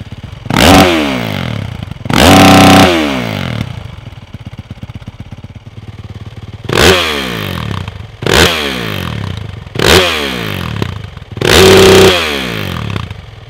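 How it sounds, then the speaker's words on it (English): A 2019 Yamaha YZ450F dirt bike fitted with a Yoshimura RS-4 full exhaust system, revved hard in five or six sharp bursts, each rising and falling quickly, with a lumpy idle between them. "we're out here testing the Yoshimura RS-4 full exhaust system on the 2019 Yamaha"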